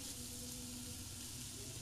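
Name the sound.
diced potato and carrot frying in a wok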